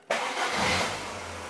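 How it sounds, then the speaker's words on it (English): A car engine cranks and catches abruptly, settling into a steady rumble close by. "Let's start the engine."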